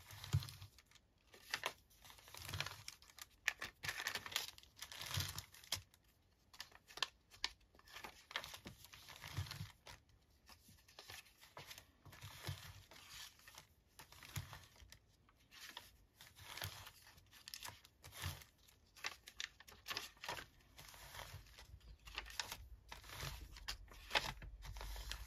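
Teabag journal paper is creased and folded with a bone folder, giving quiet close-up crinkles, scrapes and taps in an irregular rhythm with no talking.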